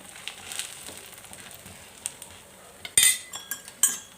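A metal spatula pressing idli batter in a hot pan, faint soft scraping followed by a few sharp metallic clinks and taps near the end.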